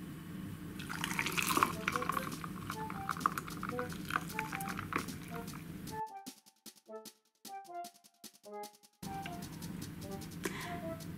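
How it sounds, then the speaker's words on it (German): Watermelon lemonade pours into two large glasses over ice cubes and mint leaves, a close, steady trickling splash with faint clinks of ice, interrupted partway by a brief near-silent gap before the pouring resumes. "In 2 große Gläser habe ich hier bereits einmal ein paar Eiswürfel und jeweils 3 Pfefferminzblätter gegeben und darauf gieße ich jetzt meine Limonade."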